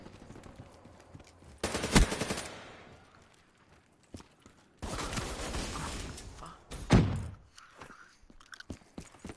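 Bursts of rapid automatic gunfire from the Peacekeeper weapon in Black Ops 3 zombies, two loud sustained volleys with a sharp peak in each, separated by quieter gaps with faint game noise and footsteps.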